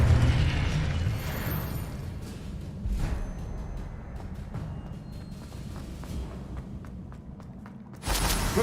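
A Confringo fire spell bursts in Hogwarts Legacy, a loud explosive boom over rumbling game ambience, with a fresh sharp blast near the end.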